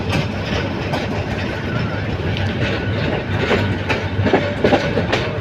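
A large mail train slows into Ghorashal Flag railway station, with a loud, steady rumble of wagons and clickety-clack wheel beats, plus faint voices in the background.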